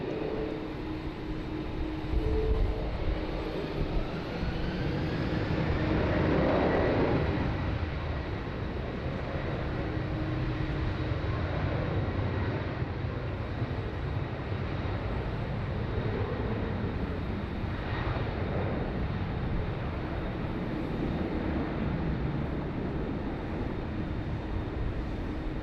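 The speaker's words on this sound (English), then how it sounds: "Qantas 23 off to Bangkok." Qantas jet airliner departing Sydney Airport for Bangkok, a broad rumbling engine roar that swells and fades over a long steady drone, moderately loud, without talk.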